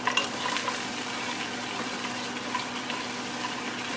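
Okra sautéing in a pan with onions and bacon makes a steady, moderate sizzle and crackle. A few sharper pops come near the start, and no voices are heard.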